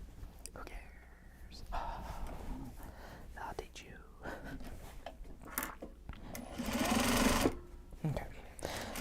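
A household sewing machine winding a bobbin while Japanese fabric bags are being made, with soft whirring bursts of varying length mixed with handling noises and low whispering.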